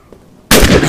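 A single loud gunshot bursts out abruptly in the Fort Zombie video game after a near-silent moment, a sharp close blast that rings on through the rest of the short moment.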